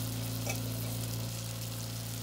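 Minced garlic sweats in a pan, giving a soft, even sizzle over a steady low hum that continues unbroken through a short stretch.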